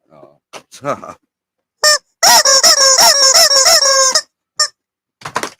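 A squeaky dog toy lets out a few short chirps, then a long run of loud, shrill, honking squeals, repeated rapidly and close up, followed by a couple of final squeaks.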